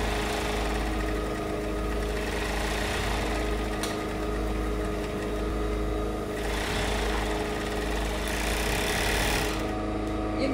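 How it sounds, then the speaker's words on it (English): An industrial overlock sewing machine runs steadily while sewing a curved hem seam, giving a continuous close whirring hum with slight shifts in pitch and no talking. "I will sew."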